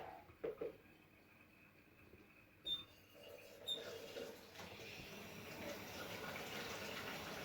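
Tap water runs into a measuring jug to fill 600 ml for homemade spicy ramen broth, a steady hissing flow that swells louder partway through after a few brief knocks and clinks, with no talking.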